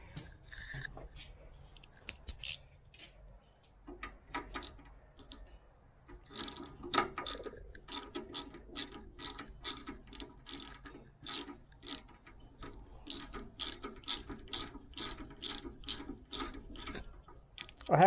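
A ratchet fitted with an 8 mm socket works bolts loose on a VW Baja Bug engine, giving rapid runs of crisp clicking strokes with pauses between bursts, close by.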